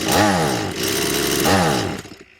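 A STIHL 180 chainsaw is opened up to full throttle twice in quick succession, each time a loud close two-stroke whine climbing in pitch before easing off and fading out.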